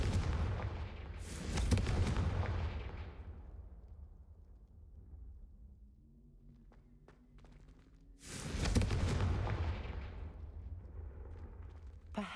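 A fiery Confringo blasting spell in the Hogwarts Legacy game bursts twice with deep booming whooshes, each rolling away into a rumbling tail, with a quieter spell of low hum and faint footsteps between the two blasts.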